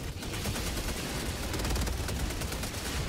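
A dense, continuous burst of mech gunfire from the Patriot Mech in Helldivers 2: rapid, heavy repeating shots merge into a loud, even roar that runs without a break.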